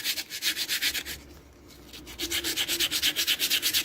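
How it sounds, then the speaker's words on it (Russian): Sandpaper scrubs a metal boiler fitting on a Jofemar boiler in steady, rhythmic back-and-forth strokes, close and moderately loud, pausing briefly in the middle before resuming at a brisk pace, with no talking. "можно воспользоваться шкурочкой"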